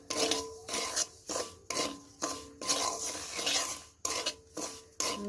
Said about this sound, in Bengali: এবার আমি সুজিটাকে ভেজে নেবো সুজিটা একটু সময় ধরে এটাকে ভেজে নিতে হবে